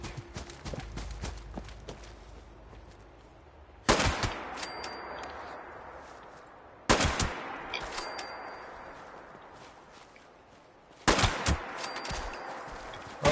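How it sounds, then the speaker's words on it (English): Gunfire in the video game Fallout 76: three sharp, loud shots spaced several seconds apart, each followed by a decaying rumble, with quieter rapid clatter and footstep-like taps between them. "Alright, now who is shooting at me?"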